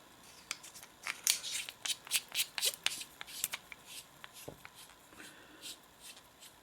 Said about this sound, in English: Now, screw on the tail cap.